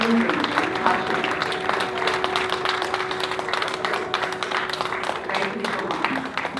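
A live audience applauds a national dance ensemble with a steady patter of many hands that holds for several seconds, mixed with a low steady tone and faint voices in the room.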